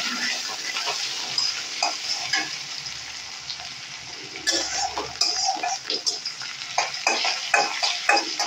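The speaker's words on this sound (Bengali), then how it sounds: "ভালো করে এগুলোকে একটু নেড়ে চেড়ে নেব।" Onions sizzle and fry in a pan while a spoon stirs them in short scraping bursts, the hiss steady underneath and the stirring clatter irregular and close.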